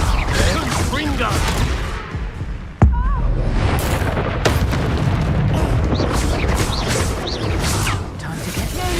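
Confringo blasting spells explode in the Hogwarts Legacy video game, a loud sudden boom near the middle standing out over dense, continuous combat noise, with voices talking throughout.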